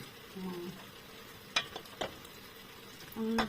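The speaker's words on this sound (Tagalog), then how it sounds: "Ayan, haluin na natin." Pancit bihon rice noodles stirred in a frying pan, with a soft steady sizzle broken by a few sharp utensil scrapes and clinks against the pan, close and fairly quiet.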